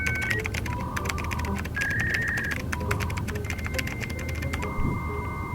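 Rapid, steady keystrokes on a mechanical keyboard, loud and close, clattering with no pauses against a faint electronic hum.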